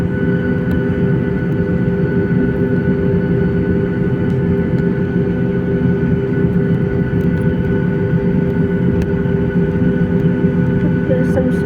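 A Batik Air jet airliner on its takeoff run, heard from inside the cabin as a loud, constant engine roar with a deep rumble and steady tones that does not let up.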